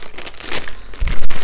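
A crinkly plastic bag of soil from a potato-growing container is handled and pulled open, giving close, continuous crackling and rustling with a few sharper crunches, and no voices.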